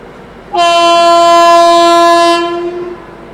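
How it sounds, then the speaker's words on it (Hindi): A New Delhi–Varanasi Vande Bharat Express sounds a loud, sustained horn as it arrives, a single steady blast lasting about two seconds before fading with the passing rail noise. "दोस्तों यहाँ पर आती है अपनी न्यू दिल्ली वाराणसी वंदे भारत एक्सप्रेस।"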